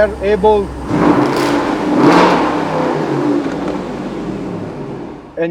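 A Jeep with the 392 engine fires up and revs, a loud close mechanical roar that swells and settles under a speaking voice.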